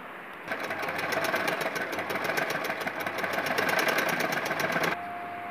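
Sewing machine running a stitch along a blouse neck, a fast even mechanical chatter that starts abruptly, holds steady and close for several seconds, then stops, with no talking.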